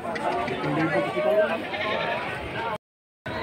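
Goats, including a buck, bleat amid a busy crowd of voices and background chatter at a goat sale, with a brief gap of silence near the end.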